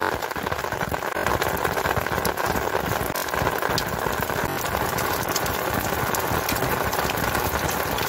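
Continuous patter of heavy rain falling on surfaces near flooded fields, a dense steady hiss with scattered drips, and a faint engine hum underneath.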